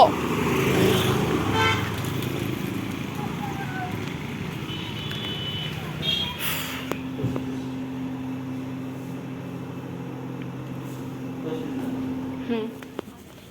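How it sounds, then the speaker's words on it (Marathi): A car rushes past close by, its noise swelling then dropping away, followed by a long steady horn-like tone, with voices at times. "साईडला गाडी आली ऐक साईडला"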